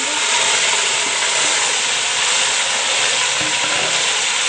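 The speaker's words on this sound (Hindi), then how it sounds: "चलिए जी अब हम इसमें ये चिकन जो बॉईल किया है ये ऐड करेंगे।" Boiled chicken fries in hot oil in a pan, giving a loud, dense and continuous sizzle that stays steady from start to finish, with faint stirring underneath.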